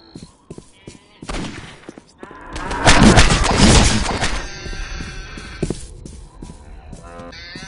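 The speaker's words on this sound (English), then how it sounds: "He's assaulting those poor cows." Cows in Postal 2 bellow loudly while under attack: several long drawn-out moos, one swelling into a loud sustained bawl, mixed with gunshot thumps and impacts.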